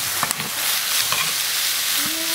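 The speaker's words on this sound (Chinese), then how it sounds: "炒一下，炒香了。" Minced garlic and chili powder stir-fry in a wok, producing a continuous hot sizzle broken by a few scraping knocks of the spatula, close and fairly loud with no speech.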